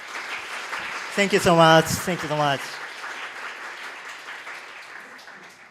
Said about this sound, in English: Can we have a big round of applause for Peacock?